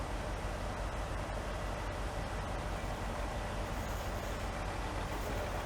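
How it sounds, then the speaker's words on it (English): A US Jetting 4018 hydro jetter runs steadily with its engine going while water jets through a line, giving a continuous dense broadband roar and hiss at even loudness throughout, with no talking. "Now that we've got our water on and we're actively jetting the line"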